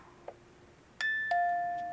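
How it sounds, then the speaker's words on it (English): A crank-wound music box with a dancing girl chimes two clear, ringing metallic notes close by, each sustaining and slowly fading, after a faint click. "It's making noise because it's a music box."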